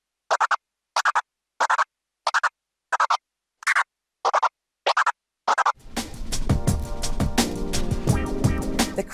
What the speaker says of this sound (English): in this video I'll teach you how to do the crab scratch